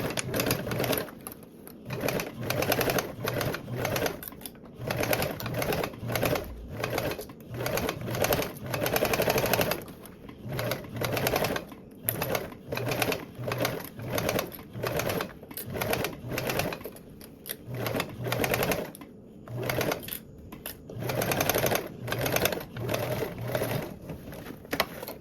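Sewing machine stitching a color-blocked bottom panel onto a Cascade Duffle bag with a 3/8 seam, running in repeated short bursts with brief pauses, close and steady throughout.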